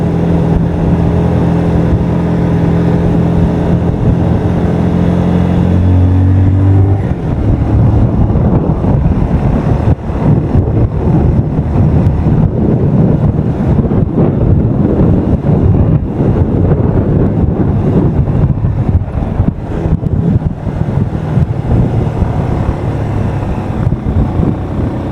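A motorcycle rides slowly along Marcos Highway, its steady engine drone nearly buried under loud, continuous wind buffeting against the microphone, with no voices.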